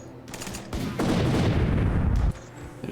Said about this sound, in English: There's railgun fire.